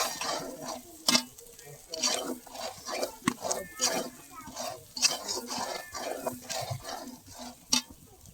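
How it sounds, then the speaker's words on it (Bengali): Dry spices such as chili powder, turmeric, salt and garam masala being stirred together with chicken in a pot, giving repeated scraping and stirring strokes at close range with light sizzling underneath. "ভালো করে মিশিয়ে নিচ্ছি সব মশলা একসাথে।"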